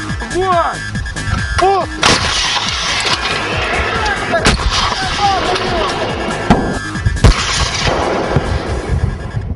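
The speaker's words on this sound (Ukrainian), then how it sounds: "Коли авіація не здатна забезпечити надійну підтримку, в бій вступає артилерія." Artillery fire during military training: heavy booming blasts and sharp cracks over a rumbling outdoor background, with distant shots and a mixture of impacts across the stretch.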